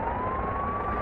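An ambulance siren sounds at a toll gate in the Bus Simulator Indonesia video game, a sustained wailing tone over a low engine rumble, steady and fairly loud.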